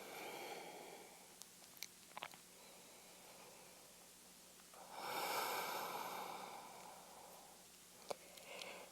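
Quiet, steady breathing while holding a yoga pose, with a longer audible exhale partway through and faint rustles and small clicks around it, all soft and close.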